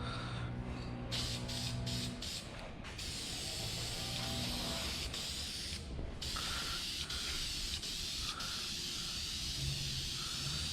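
Aerosol spray can applying HEMI Orange paint to a 440 big block Charger, a steady close hiss running throughout with brief pauses and bursts between passes.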